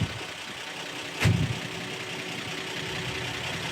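A 1955 Chevrolet 210 with a new carburetor idles steadily at close range. The engine's low rumble holds even throughout, and a brief louder thump comes near the start.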